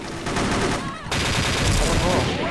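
Rapid automatic gunfire from the online shooter XSHOT rattles loud and close in dense bursts, with a short gap before the firing resumes.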